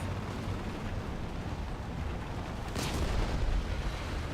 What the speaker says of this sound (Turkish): araba patladı